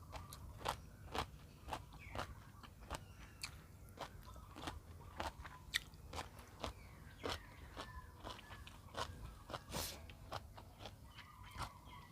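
Crunchy bites into fresh raw yardlong beans, a steady run of sharp crisp snaps and chewing crackles close up, repeating every second or so with no talk.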